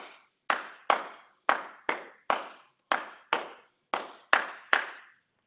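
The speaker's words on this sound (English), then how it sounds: "that clap, hand clap, should be like resounding in your ears" Sharp hand claps at a Calabar cultural dance lesson, eleven crisp, ringing claps in a loose rhythm with brief decays and silence between them, close and alone.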